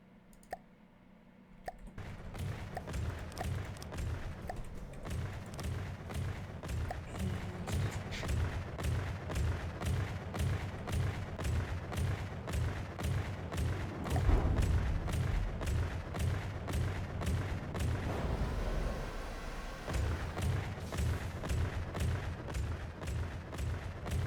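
Weapon tests aboard a submarine in the game From the Depths, a steady barrage of rapid repeating gunshots with heavier booms mixed in, loud and sustained for the whole stretch.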